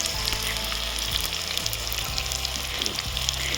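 Onions hit hot oil for fried rice, giving a loud, dense, continuous sizzle close up, with crackling pops over a steady frying hiss.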